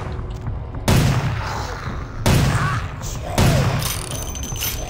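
Three loud, close gunshots in Vampire the Masquerade: Bloodlines, each a sharp blast with a booming tail, spaced about a second apart over faint background ambience.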